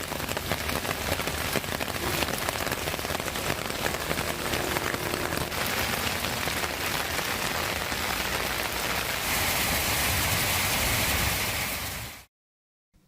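Heavy, unbroken rain pours down across parts of Tamil Nadu, a loud, dense hiss of drops on surfaces that continues steadily and close before cutting off abruptly.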